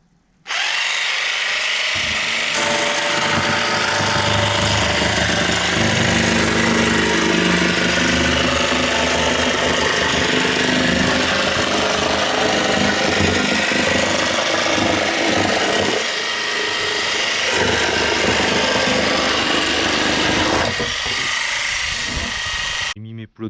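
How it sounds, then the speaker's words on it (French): A Makita cordless jigsaw cuts a 4 mm board in one steady, loud, continuous buzz lasting about twenty seconds, close up and without talk. "Là, pour le couper, je prends ma scie sauteuse,"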